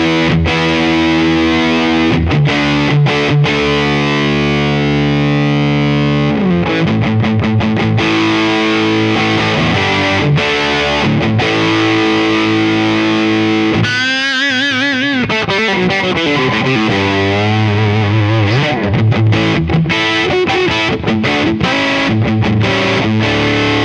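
Electric guitar through a ToadWorks John Bull British Overdrive pedal with every control at noon, producing a loud, thick distorted tone as chords and single-note runs play continuously, with a brief bent lead passage midway.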